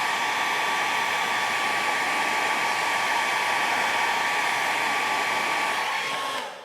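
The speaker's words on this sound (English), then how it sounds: "cool function on the hair dryer now" A hair dryer on its cool setting, used while working on a 1/6 scale vinyl figure kit, blows a steady, loud, even whoosh with a faint whine, running alone until it cuts off near the end.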